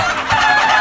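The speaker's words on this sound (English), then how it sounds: "Chickens away! Poultry. My precious poultry!" Chickens clucking in the video game Minecraft: Story Mode, a brief, loud flurry of excited clucks and squawks from several birds close up, with no talk.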